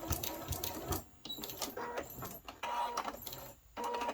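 A home sewing machine back stitching a seam on a fat quarter quilt, its motor whirring in short bursts with brief pauses between runs, fairly quiet and close.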